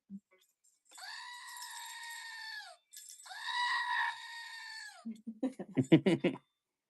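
A screaming goat toy lets out two long, loud shrieking bleats, one after the other, then a burst of shorter bleating bursts in quick succession, heard clearly against silence.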